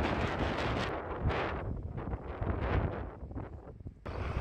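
Strong gusting wind buffets the microphone at the harbor town of Duba, a continuous loud roar with rising and falling surges and no voices.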